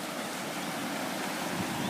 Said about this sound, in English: only allowing a little bit of water through